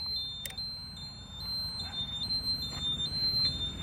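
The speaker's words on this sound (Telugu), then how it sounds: "బజర్ అయితే వేసారు, ఇండికేటర్ బజర్ అయితే వేసారు" A fifteen-year-old restored Hero Honda Passion Plus motorcycle's turn-indicator buzzer beeps in a faint, high, evenly repeating series over a low background hum.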